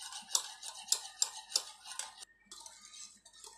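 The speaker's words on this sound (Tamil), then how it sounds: "சர்க்கரையை சேர்த்தும் நல்லா மிக்ஸ் பண்ணிக்கலாம்" Powdered sugar being whisked into an egg and oil batter for a wheat flour cake, giving rapid, regular ticking strokes of a whisk against a bowl, close and clear, with a short pause before the mixing resumes.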